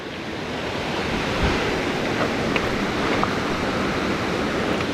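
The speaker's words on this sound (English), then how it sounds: "We've already found our first waterfall." A mountain waterfall at about 8,000 feet roars in a steady, dense wash of broadband noise, with some wind buffeting the microphone. It is loud and unchanging, with no voices.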